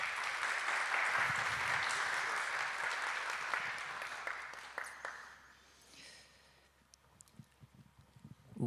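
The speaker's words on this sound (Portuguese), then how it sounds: "uma salva de palmas para Ana Paula." Audience applause fills a lecture hall at a university debate event, a dense sustained clapping that holds steady for several seconds, then thins out and fades to scattered claps and quiet.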